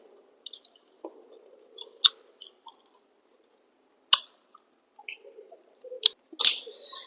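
Someone eating hilsa fish curry outdoors makes sparse, close chewing sounds, with soft wet squishes and a few sharp clicks scattered across quiet pauses.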